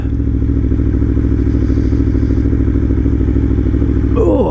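An Aprilia motorcycle engine drones loud and steady while riding, with harmonic engine tones throughout and a brief rattle near the end.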